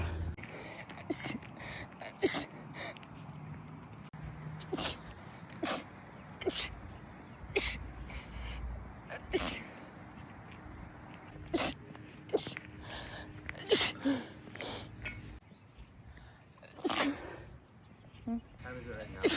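A person caught in a repeated sneezing fit triggered by sunlight, sharp sneezes bursting out one after another at irregular intervals, close and loud, with breathy sounds between them.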